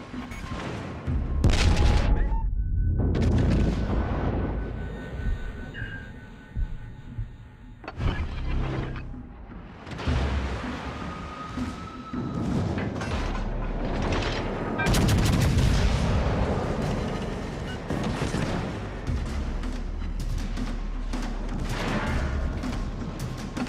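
Naval artillery fire in the World of Warships Legends video game, heavy booming blasts and rumbling volleys rolling through a loud battle mix, with deep low thuds recurring throughout.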